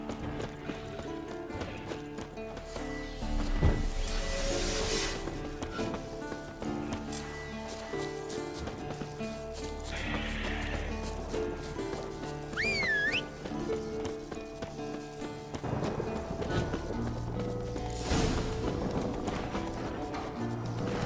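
Hoofbeats clip-clop steadily under a busy soundtrack of music and effects from The Witcher 3: Wild Hunt, with a brief horse whinny partway through.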